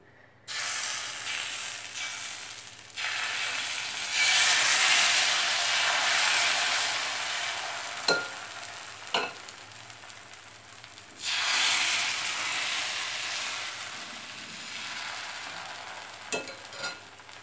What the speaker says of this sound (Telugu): ఇప్పుడు మీకు మళ్ళీ ఇంకొక దోశ వేయటం చూపిస్తాను.